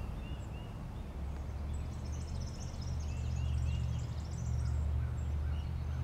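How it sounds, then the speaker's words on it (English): Songbirds sing on a spring day on parish grounds lined with stone retaining walls, their faint, high chirps scattered through the clip above a steady low outdoor rumble. "you can hear the lovely songbirds doing their song"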